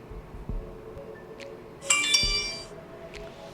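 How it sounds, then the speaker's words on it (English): A short bright electronic chime rings out once, clear and sweet, fading over about a second against a quiet background with a few faint clicks. "That's the sound of a like."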